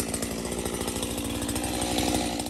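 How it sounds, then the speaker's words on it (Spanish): Chainsaw cutting wood while clearing a park trail, its engine buzzing loud and steady at close range with a fast rattling chain, no voices. "Ese día vi al Oscar tan entretenido con su motosierra que se la pedí"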